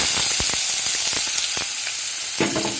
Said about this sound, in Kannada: ಈ ಟೊಮೊಟೊ ಕಾಯಿ ರುಬ್ಬಿರೋ ಮಿಶ್ರಣ ಹಾಕ್ತಾ ಇದ್ದೀನಿ